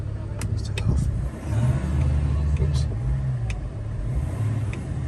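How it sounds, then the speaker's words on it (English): A 2006 BMW 3.0 diesel M Sport automatic engine rumbles close by and climbs briefly in pitch as it is revved, with a few light clicks over the steady idle. "See it revs freely, there's no problems"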